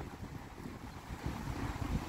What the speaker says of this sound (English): Man's windy outside, man.